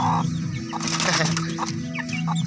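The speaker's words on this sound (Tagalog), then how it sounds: "Meron tayong mga sisiw, nakapisa na po ang ating inahin na si Gray" Hen clucking softly and repeatedly, with faint high peeps of newly hatched chicks scattered around it, close and continuous.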